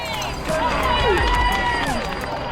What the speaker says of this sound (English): Everyone's cheering Ashley Kane on here as I pass in with 400 metres to go.